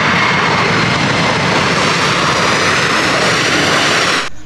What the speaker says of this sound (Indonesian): Ayo teman-teman, kita terbangkan pesawat terbangnya